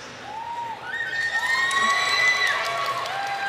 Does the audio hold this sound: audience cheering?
yes